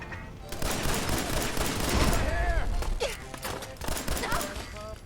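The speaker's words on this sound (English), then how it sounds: "Oh boy, I forgot about the turrets." Automated turrets in Fallout 4 unleash a dense, continuous stream of rapid gunfire that swells loud and rattles on for several seconds, with a few short harsher accents standing out near the end.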